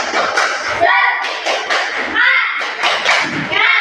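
Schoolchildren in a classroom doing a rhythmic spirit clap, bursts of hand claps and thumps in a patterned beat mixed with children chanting along, close and loud.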